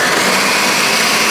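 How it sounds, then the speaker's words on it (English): A kitchen blender running at full speed on a full jar of smoothie ingredients, a loud, steady whirring roar heard up close and alone for the whole moment. "So just because my blender's full, I'm gonna go ahead and give this an initial."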